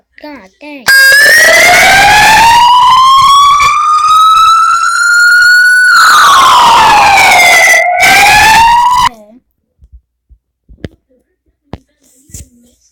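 A fire truck siren sound effect sounds loud and near, one long wail that slowly rises and falls for about eight seconds before stopping, followed by quiet with brief faint voices.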